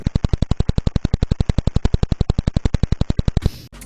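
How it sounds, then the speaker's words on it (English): A pulsar, a spinning neutron star, recorded as a rapid, perfectly regular train of loud sharp pulses, like a turret gun firing, about ten per second, ending abruptly into a brief hiss. "A literal spinning neutron star is the most boring sound on the list."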